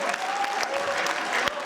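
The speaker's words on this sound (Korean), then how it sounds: "박수 한번 주십시오." Applause from a studio audience on a Korean political talk show, a steady burst of clapping lasting under two seconds with a faint tone running through it.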